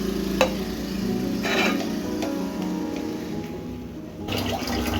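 Chicken mixed with chili flakes, coriander powder, pepper powder and salt, heard as a close, wet churning and a low sizzle with a few sharp scraping strokes, no talk.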